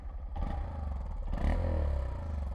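A 2023 Honda Monkey motorcycle's small engine and upswept exhaust idle and rev up close, a low throbbing putter that swells in the middle, with some clattering noise mixed in.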